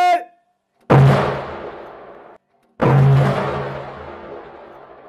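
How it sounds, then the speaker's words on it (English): Dynamite blows up a EURO 16 football and a shoe outdoors in two loud, sudden blasts a couple of seconds apart, each booming and then trailing off into a long rumbling decay. "Now it's time for explosion, so camera on."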